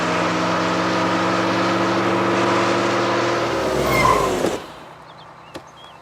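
A car roars along at speed to overtake a bus, its engine droning steadily and loud, then swelling in a brief peak before cutting away to quiet.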